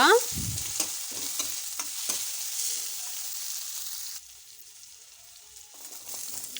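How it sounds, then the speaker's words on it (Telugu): Green chili paste frying in a pan for a healthy breakfast snack, a loud burst of sizzle as it hits the oil, then a steady crackling fry with scrapes of stirring, quieting partway through. "మనం గ్రైండ్ చేసి పెట్టుకున్న పచ్చిమిర్చి పేస్ట్ కూడా వేసి ఒకసారి బాగా కలుపుకోవాలి"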